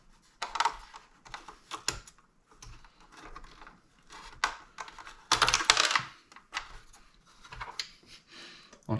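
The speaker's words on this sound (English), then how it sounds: "I'm going to use a little handheld screwdriver to get them started" Small handheld screwdriver starting screws while fitting a Hogworkz saddlebag conversion on a Harley Softail, heard as a run of light metallic clicks, taps and ratcheting scrapes in close, irregular bursts with brief pauses.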